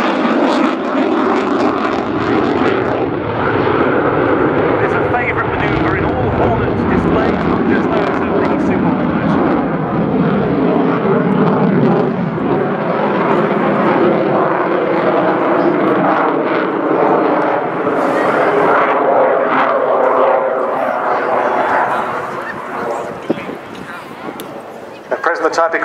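A Boeing F/A-18 Super Hornet roars through a flying display at an airshow in a loud, continuous jet rumble that shifts in pitch as it pulls up into a square loop. A commentator talks over the noise.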